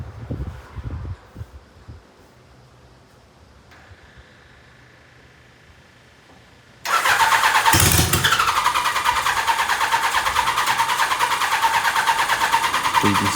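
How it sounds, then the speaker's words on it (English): A 1000cc trail buggy engine cranks unsuccessfully with a fuel supply problem, quiet at first, then loud, close, steady churning from about seven seconds on that never catches into a run. "So you can see it's trying to start."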